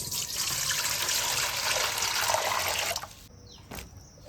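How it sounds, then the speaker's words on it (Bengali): Vegetables such as okra, bitter gourd, potato and ginger are rubbed and washed under running water, a close splashing rush that stops abruptly near the end, followed by a few faint drips and a light knock. "রগড়ে রগড়ে আমি ধুয়ে নিচ্ছি।"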